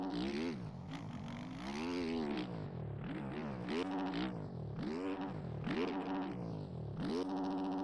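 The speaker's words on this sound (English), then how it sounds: "The rev limiter is so good." Motorcycle engine in the SMX motocross video game bouncing repeatedly off its rev limiter, a buzzy high-pitched whine cycling up and down in steady waves for several seconds, loud and with no talking.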